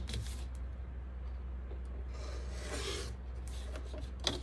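Quilting foundation paper for a vintage kite block is trimmed along a solid line, giving a faint, close, continuous rubbing and cutting sound in a quiet room.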